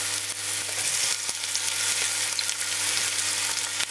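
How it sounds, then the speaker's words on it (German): Diced potato, kohlrabi and onion sweat in hot oil over medium heat for a kohlrabi soup, making a dense, continuous hiss-and-crackle that stays even and close from start to finish. "Und das Ganze lasse ich jetzt hier 3-4 Minuten bei mittlerer Hitze einfach mal so anschwitzen"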